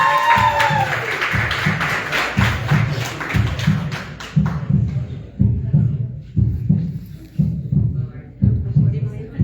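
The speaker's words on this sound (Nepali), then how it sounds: "उहाँको लागि पनि एक पल्ट ताली बजाइदिनुहोस्" Audience clapping for the grand winner of the Snow Ambassador Solukhumbu Grand Finale contest, steady hand-claps throughout, with a voice speaking over the applause in the first seconds before it continues alone.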